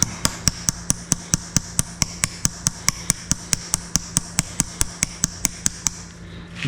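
A brass olive is tapped onto a pipe with a soft tool, producing a quick, regular series of about thirty sharp, close taps over a low steady hum.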